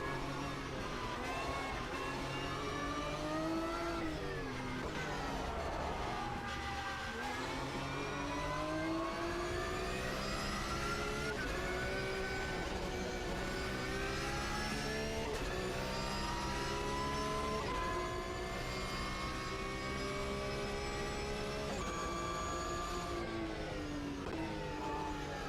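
A racing car engine in the video game Automobilista 2 drones steadily throughout, its pitch climbing and falling through repeated gear changes as the car accelerates and brakes, with no talking.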